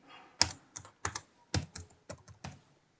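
Keys clacked on a computer keyboard while typing Python code, about eight crisp, close strokes in uneven bursts with short gaps, alone and moderately quiet.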